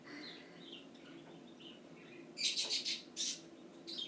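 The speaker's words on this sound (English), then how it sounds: "My birds fly all over the house, so sometimes they land on my head and sometimes they fly away from me." Pet birds flying free inside a house give soft scattered chirps, then a louder burst of quick high tweets near the end over quiet room noise.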